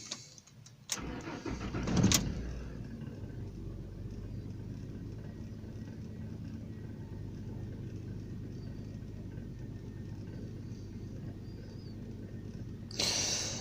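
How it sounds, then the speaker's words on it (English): A 2007 Ford F150 truck with a 4.2L engine being diagnosed for fuel problems cranks and catches, then settles into a steady, fairly quiet idle that runs on without talk. "Let's go ahead and start this truck and see what fuel pressure does then."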